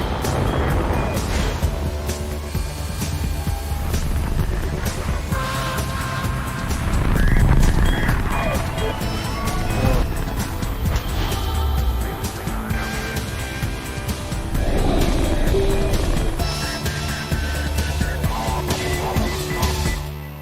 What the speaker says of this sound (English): liftoff Falcon 9.